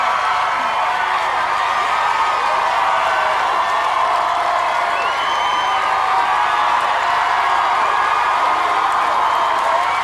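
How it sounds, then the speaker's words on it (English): A large live studio crowd at a reality-show final roars with sustained cheering, whooping and applause, a loud, dense wall of noise that continues unbroken throughout. "Oh my God, the noise is unbelievable. The crowds, they love him."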